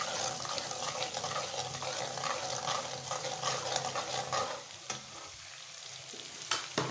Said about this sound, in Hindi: पाँच पाँच मिनट करके सारी चीज़ें फ्राई करनी है इसमें।